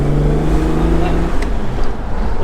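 A rare English Marcos sports car engine, a deep steady rumble from inside the car, heard continuously under people talking.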